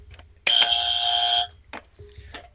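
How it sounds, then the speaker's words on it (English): A harsh electronic buzzer blares for about a second, loud and flat, followed by a couple of faint short clicks. "You got a buzzer on that one."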